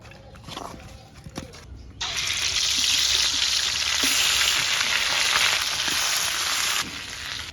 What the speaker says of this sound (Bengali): মাছটা তৈলে বাজার লাগিয়া এখন হলুদ আর লবণ দিয়ে মাহাইলমু